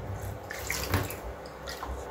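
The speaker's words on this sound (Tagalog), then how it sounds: "So maglalagay lang tayo ng tubig." Two cups of water pour steadily from a container into a cooking pot for a sugar-based recipe, a soft continuous splashing trickle close by with no talking.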